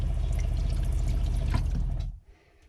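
Water runs steadily from a sink tap in a DIY box van water system, a close, full rushing stream that stops abruptly near the end, leaving quiet.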